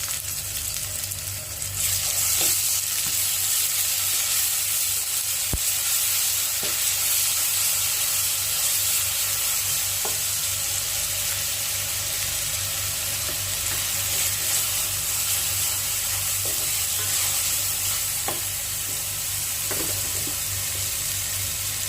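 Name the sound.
ginger garlic paste frying in a pan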